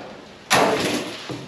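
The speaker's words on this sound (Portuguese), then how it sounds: "E aí eu pego essa tampa de ferro," A heavy iron lid is set down over the pit of a dry composting toilet in an ecovillage, giving one close, loud thud with a short scraping rumble afterward and a faint second knock near the end.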